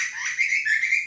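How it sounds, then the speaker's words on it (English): A bird trapped inside a shed gives high chirping whistles, a few quick bright calls close by, with no other sound beneath them. "we've got a bird in the shed"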